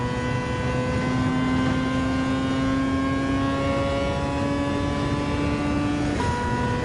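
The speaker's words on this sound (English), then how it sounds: "I really love the sound of the rotary engine" A rotary-engined race car in Gran Turismo 7 screams at high revs, a loud, smooth, steady whine that climbs gradually, then drops briefly with a gear change near the end.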